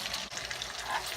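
An egg hits hot oil in a pan for scrambled egg, producing a brief, close, continuous crackling sizzle with no talking.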